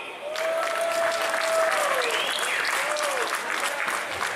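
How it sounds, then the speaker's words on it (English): Loud, continuous audience applause for wrestlers at a PCW wrestling show, dense clapping with crowd voices and whistles mixed in, sustained throughout. "how about a round of applause for them?"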